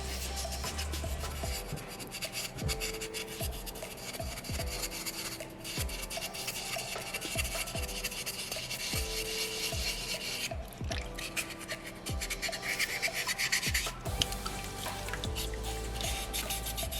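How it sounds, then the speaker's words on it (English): Wet sanding of a soapstone butterfly carving, a steady abrasive rubbing and rasping with repeated back-and-forth strokes in a regular rhythm, close and fairly loud, with no talk. "Once we start to do our sanding, we start to bring the colors and the natural patterns that are in this rock into a clear picture"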